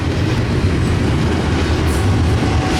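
A freight train rumbles past on the railway near Cajon, a loud, steady low roar of rolling cars and wheel noise that holds throughout without talk.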